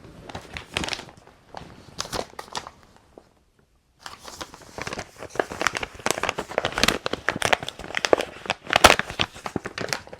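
Packaging crinkles and rustles in irregular bursts up close, a short crackling stretch followed by a pause and then longer, denser crinkling.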